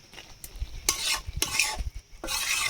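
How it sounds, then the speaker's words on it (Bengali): Mutton kosha stirred in a pot over low heat, with several distinct scraping, stirring bursts over a soft steady sizzle and light clinks of utensil on metal; no talking. "উনুনে কিন্তু তাপ একদম কমিয়ে দিয়েছি হালকা তাপে কষা হবে"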